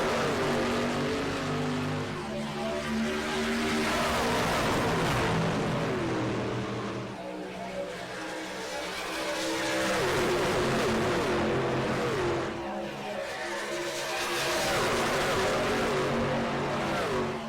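Several truck engines roar continuously in a virtual Truck Series race at Kansas Speedway, with rising and falling revs as the pack runs together, loud and steady throughout.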